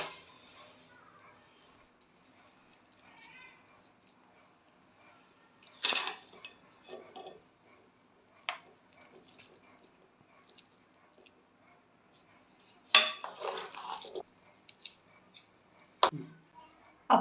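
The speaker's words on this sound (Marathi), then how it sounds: "मी आता ह्याचं प्लेटिंग करून घेते." Finger millet upma being plated in a home kitchen: sparse metal cutlery clinks and scrapes against dishes, a few sharp taps spaced out over quiet room tone.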